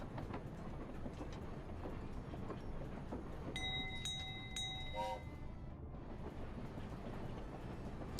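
A train pulls into a station in a multiplayer building video game, a steady rumbling roll throughout with a few clear bright chime tones sounding together midway, no talking.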